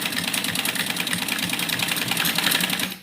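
A sewing machine runs fast and steadily as it stitches printed kurti fabric, a close, rapid mechanical chatter lasting about three seconds before it stops.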